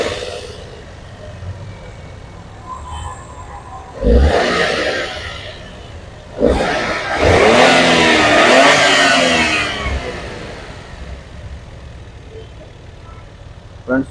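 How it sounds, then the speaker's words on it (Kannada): A 2012 Maruti Alto K10 VXi petrol car engine starts and revs, with a sharp burst near four seconds and a longer, louder rev from about six to ten seconds, settling back to a steady idle nearby. "ಫ್ರೆಂಡ್ಸ್ ನೋಡ್ತಾ ಇದ್ದೀರಾ ಇಂಜಿನ್ನು ಎಷ್ಟು ಸ್ಮೂತ್ ಆಗಿದೆ ಅಂತ. ಸ್ಮೂತ್ ಇದೆ ಇಂಜಿನು, ಪೆಟ್ರೋಲ್ ಇಂಜಿನ್ ಸ್ಮೂತ್ ಆಗಿದೆ."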